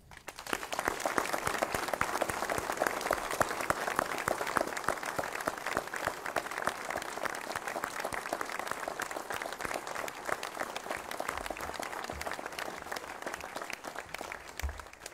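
A large audience applauds at a commemoration ceremony for the 75th anniversary of a town's liberation, dense and steady clapping that holds evenly for the whole stretch, loud and unbroken.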